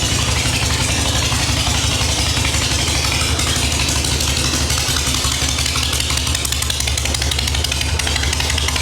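A 1974 Harley-Davidson Super Glide Shovelhead V-twin idles steadily just after an electric start, a loud, close, continuous rumble with no speech over it.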